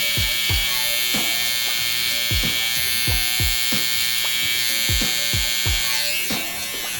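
Close steady buzz of an electric beard trimmer cleaning up a mustache, with a continuous motor whine and repeated brushing strokes as the blade passes over the hair.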